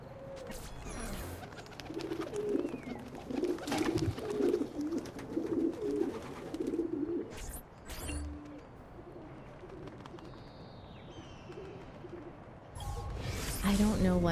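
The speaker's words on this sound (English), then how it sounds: "Oh, the pigeon coop." Pigeons coo at a pigeon coop in the Assassin's Creed 2 video game, soft repeated low coos over a busy game backdrop, with brief crashes and a rustling burst near the end.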